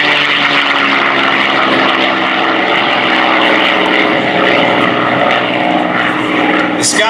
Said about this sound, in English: This is the North American P-51 Mustang, what many believe was the best fighter of all of World War II.